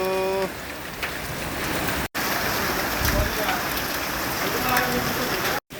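Steady heavy rain mixed with hail pours and patters densely on a surface throughout in Birtamod, a constant hiss with scattered harder impacts, briefly cut by short dropouts.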